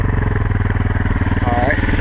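A 2020 motorcycle engine idling up close, a loud, steady low thumping pulse with even rhythm and a faint whine rising briefly midway.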